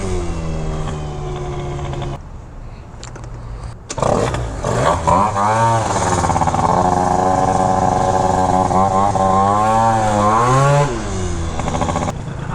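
Engine of a custom-built scooter revving hard while being ridden around a neighborhood, a loud close buzzing drone that rises and falls with throttle, with a brief lull before climbing again and holding a strained high rev.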